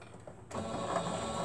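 A serger sewing machine kicks in after a brief quiet moment and runs as a loud, steady, close-up whir with rapid mechanical chatter until the end.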